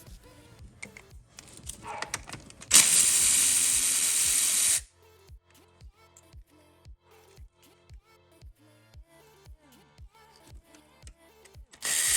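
Air or power tool loosening two 10mm bolts on a solenoid of a 300ZX twin turbo engine, a harsh hissing whir lasting about two seconds amid light clicks and ratcheting taps.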